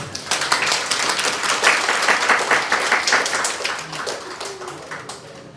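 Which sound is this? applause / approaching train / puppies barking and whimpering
applause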